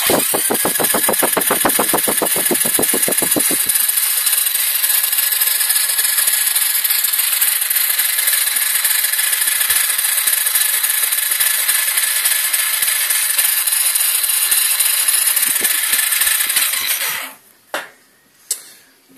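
A Fiat Spazio engine is spun over to oil its camshafts, a loud, steady whirring drone with rapid pulsing chugs at the start, cutting off near the end, then a few sharp clicks.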